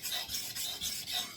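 Steady back-and-forth rasping of a Schrade 7-inch straight-blade knife stroked across a sharpening stone, about five even strokes in quick rhythm, close and clear with no voices.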